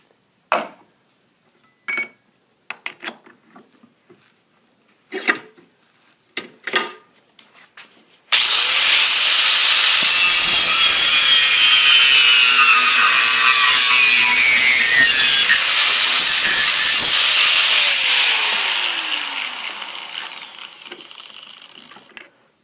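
A power grinder grinds down metal on a 1993 Jeep Cherokee XJ door. A few short clanks come first, then a loud continuous high grinding whine that holds for about ten seconds before trailing off.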